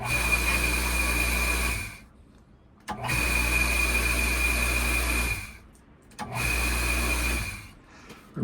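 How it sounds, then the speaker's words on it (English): A home water pump, on a system whose pressure-tank bladder has failed, runs in three loud steady bursts with a strong low hum, stopping briefly between cycles. "the pump is running okay"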